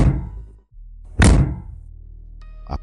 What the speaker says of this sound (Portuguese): A porta cedeu num estrondo.